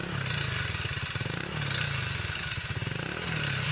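A Honda ADV160 scooter with an aftermarket Moriwaki muffler idles with a throaty, pulsing exhaust burble, close and steady, rising briefly with light throttle blips.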